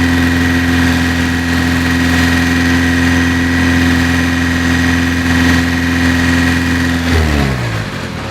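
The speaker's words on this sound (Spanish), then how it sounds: "Y ahora aceleramos a 2500 revoluciones" A car engine held at about 2500 rpm during an oxygen sensor check gives a loud, steady humming drone close by, then the pitch sinks as it slows back toward idle at the end.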